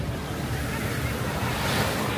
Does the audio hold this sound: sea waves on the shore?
yes